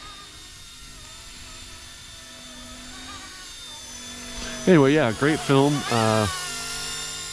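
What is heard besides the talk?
RC Era MD 500 Little Bird model helicopter flying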